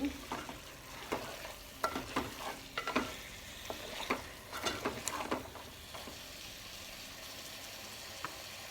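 A spoon repeatedly scrapes and stirs prawn biryani with mint in a pot, giving irregular clinks and scuffs over a faint sizzle; the stirring thins out in the last few seconds.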